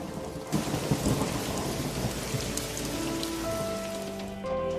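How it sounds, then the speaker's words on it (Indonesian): Heavy rain and rolling thunder from a storm in the Sakura School Simulator game, a dense steady downpour with low rumbling throughout, fairly loud and without any voices. "apalagi deras gini hujannya."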